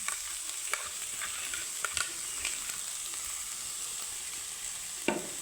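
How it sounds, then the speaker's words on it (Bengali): A spatula stirs fried vegetables and chopped coriander leaves in a sizzling pan, giving a steady close frying hiss broken by a few sharp scrapes and taps, with no talking. "ধনে পাতার সাথে আমি সুন্দর করে মিক্স করে নেব"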